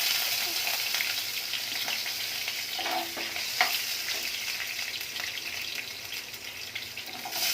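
Ginger and garlic fry in oil, a steady broadband sizzle with faint stirring clinks, while cumin has already gone into the oil for a paneer butter masala.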